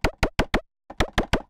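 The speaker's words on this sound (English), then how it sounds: "And I needed some wood footsteps." Synthesized wood footsteps built from FM synthesis and chorused noise in Serum: eight short, evenly spaced hollow plops, four then a brief pause then four more, close and clean with no talking.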